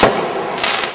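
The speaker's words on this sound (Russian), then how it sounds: "мне очень впечатляющий фейерверк. Разноцветный, яркий." Fireworks burst in a Mafia video game New Year scene, a loud crackling explosion at the start followed by sustained sizzling and a second cluster of sharp pops near the end, with no talk.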